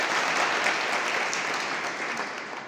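A crowd applauds at an event honouring loco pilots at Ayodhya Cantt station, a dense clapping wash that gradually fades.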